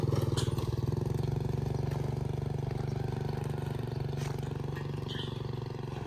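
Motorcycle ridden through a Lao village, its steady mid-pitched engine droning close and continuous throughout, with faint background voices.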